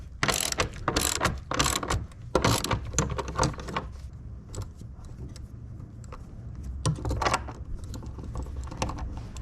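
A ratchet on an extension works the front seat bolts out in a Jeep Wrangler JLU, with loud bursts of rapid close clicking, a lull of softer, scattered clicks, then another clicking burst near the end.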